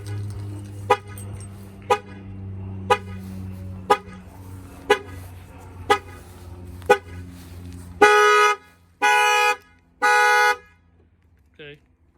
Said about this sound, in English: I'm gonna go ahead and bang on the window and that will fire off the alarm system.